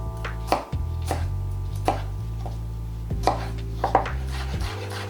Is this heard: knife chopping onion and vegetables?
yes